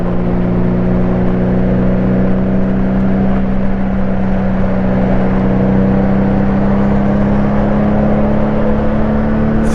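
A car drives alongside a Honda Goldwing GL1500 motorcycle on the road, heard as a steady loud engine hum and whir with wind rush, close and continuous without talk.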